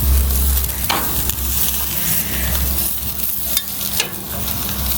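Pork sausages sizzling steadily in a hot pan, a loud continuous broadband crackle with a few brief clatters of handling, no voices.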